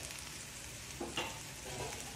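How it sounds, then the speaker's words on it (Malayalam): Bitter gourd fries in hot oil with a steady, quiet sizzle, broken by a couple of soft scraping sounds as pieces are moved. "ഇതിങ്ങനെ പൊരിച്ചെടുക്കാൻ പറ്റും മീൻ പൊരിക്കണ പോലെ"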